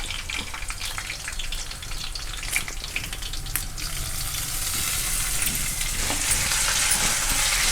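Onions frying in a pan for a quick tomato curry, a steady close sizzle with crackling pops and occasional stirring scrapes, the hiss growing slightly brighter toward the end, no voices.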